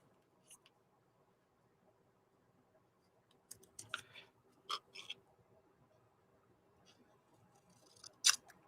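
Scissors cutting paper in half during collage work for artist trading cards, a few crisp snips spread out after a quiet start, close but soft, no talking.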